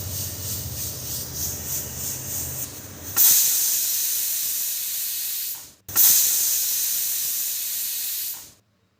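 A pressure cooker of sambar rice on a medium flame vents steam in two long, loud hissing blasts, each fading slightly before cutting off, after a quieter stretch of background noise.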